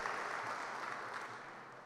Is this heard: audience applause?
yes